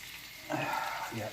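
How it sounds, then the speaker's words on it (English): Soft sizzling of chorizo frying in a pan on low heat, close up, with faint stirring sounds over a short moment. "we've got the chorizo frying out here"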